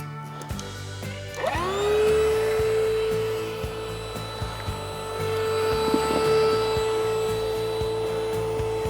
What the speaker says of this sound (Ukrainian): І починаємо надувати наш човен.